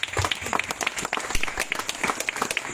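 A church congregation applauding, a dense, steady wash of many clapping hands filling the space, with a voice faintly under it.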